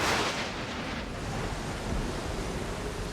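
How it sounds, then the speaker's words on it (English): A thunderstorm at night on a mountain, heard as a steady, loud broadband roar of wind and rain that swells briefly at the start and then holds evenly with no voices. "As night falls, the storm gets worse."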